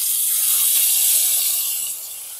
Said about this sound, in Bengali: এই যে জিরে, আদা, কাঁচা লঙ্কা এবং টমেটোর পেস্টটা আমি বানিয়েছি সেইটা এই তেলের মধ্যে দিয়ে দিচ্ছি